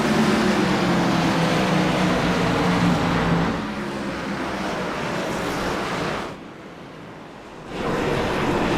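Race cars on the Sonoma circuit in a sim racing game, a broad roaring engine wash at green flag that drops in level midway and thins out briefly before surging back.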